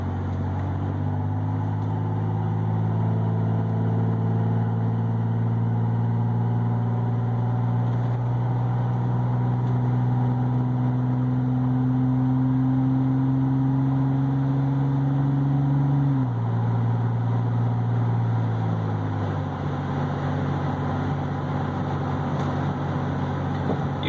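A motorcycle engine fitted with a Screamin Demon coil pack and aftermarket exhaust hums steadily, its pitch climbing smoothly as it accelerates, then dropping back and settling, heard close with no talking.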